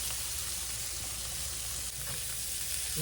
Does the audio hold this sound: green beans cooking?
yes